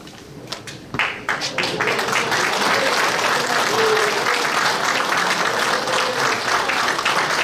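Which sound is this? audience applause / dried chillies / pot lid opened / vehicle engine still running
audience applause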